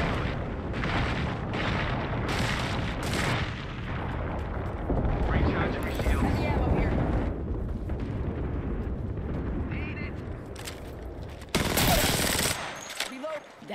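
Gunfire in Apex Legends: dense, loud rapid automatic bursts and booming explosions through a chaotic firefight, with voices talking in between.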